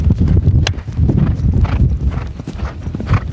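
Horse hooves clip-clopping on a polo field during play: heavy, close thuds of a moving horse in an uneven galloping rhythm, with some thumps and rustle mixed in and no talking.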